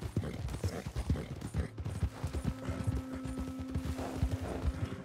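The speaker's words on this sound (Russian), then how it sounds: "Извини, что у меня такая Быстрая лошадь." Horse hooves pound in a fast, steady gallop in Red Dead Online, the rapid thudding beats continuing throughout, with faint tonal background sounds entering partway.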